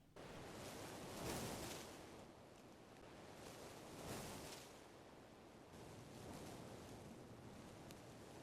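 Wind bursts designed for a forest in Frontiers of Pandora, with soft broadband gusts swelling and fading in slow waves and two stronger peaks, faint and airy, with no voices.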